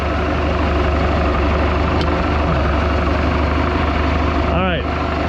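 Steady low idle of a 1976 Mercruiser 120hp boat engine in a Mark Twain hull, close and continuous, with a brief voice breaking in near the end.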